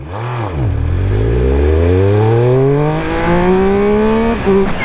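A 2021 Triumph Speed Triple 1200 RS motorcycle revs and accelerates hard through the gears on a rough road, its engine note climbing steadily in pitch, loud and close, with a brief gear change near the end.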